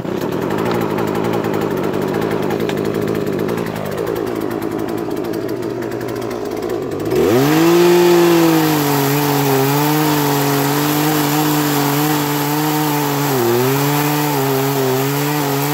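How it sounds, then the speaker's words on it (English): A chainsaw that won't cut properly idles with a low putter, then roars up to full throttle and keeps running loudly and steadily, its pitch dipping briefly under load while cutting wood. "Something has happened to the chainsaw where even the wood that I'm cutting right here,"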